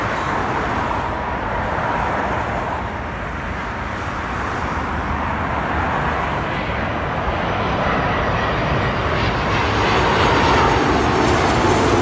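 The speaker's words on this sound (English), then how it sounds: "It's the Virgin Atlantic Airbus A330 coming in from Bridgetown," A Virgin Atlantic Airbus A330 on approach to London Heathrow from Bridgetown, Barbados makes a continuous, loud engine roar that holds steady and grows a little toward the end, with no talking.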